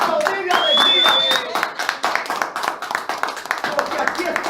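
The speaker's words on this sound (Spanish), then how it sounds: "Tenemos que aplaudir de alegría" A church congregation claps hands in a steady rhythmic beat during worship, the loud clapping mixed with voices singing or speaking.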